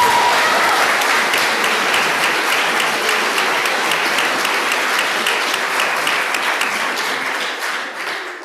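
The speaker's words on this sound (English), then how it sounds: "So let's give them another round of applause." A school audience gives loud, sustained applause for senior speakers after their speeches. Dense clapping holds steady for several seconds, then begins to thin out at the end.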